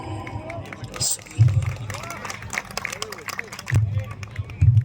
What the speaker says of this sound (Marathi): क्या बात है, जोरदार टाळ्या.